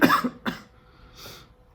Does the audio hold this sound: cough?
yes